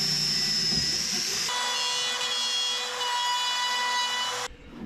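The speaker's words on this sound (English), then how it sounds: "I think this calls for the rotary rasp." A rotary rasp grinds into rotten wood on a wooden boat, a loud, steady, whining power-tool drone with a rougher rasping onset that runs for about three seconds before cutting off abruptly.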